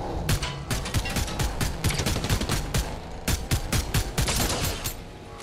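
Rapid gunfire in a Fortnite match, with bursts of sharp shots repeating in quick rhythm throughout, loud and close with no talking.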